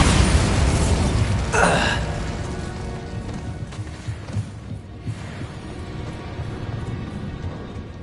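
A Bombarda blasting spell goes off in the video game Hogwarts Legacy, a loud booming burst at the start that rumbles and fades into ongoing game noise.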